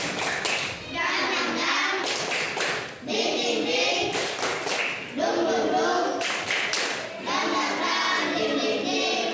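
A classroom of children does a rhythmic group clap routine, bursts of sharp unison claps separated by short pauses, repeated several times, fairly loud with young voices chanting along.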